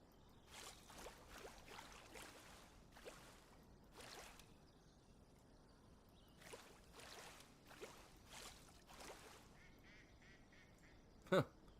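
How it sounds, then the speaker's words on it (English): Duck quacking in the park-building game Prehistoric Kingdom, a series of short nasal calls spaced irregularly over quiet ambient sound, with a sharp loud click near the end. "Just hear a duck going."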